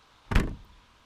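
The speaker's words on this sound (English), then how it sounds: "Just opening and shutting the door." A heavy door on an old classic car swings and shuts with one solid, close thunk that fades quickly, alone with no talk.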